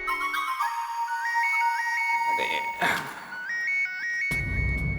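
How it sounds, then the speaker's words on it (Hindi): A phone ringtone plays a repeating, bright melodic chime, fairly quiet, with a few brief bumps and rustles around it. "दया बहन का फोन है। बजने दे, मत उठा।"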